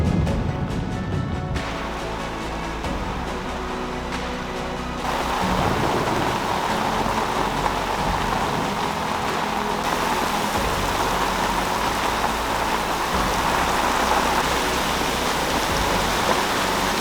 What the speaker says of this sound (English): as you can see, it's raining buttloads